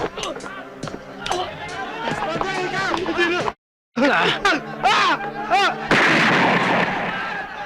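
Sharp gunshots in an action film scene crack repeatedly in rapid, irregular bursts, loud and close, with a brief silent gap before the firing resumes amid commotion.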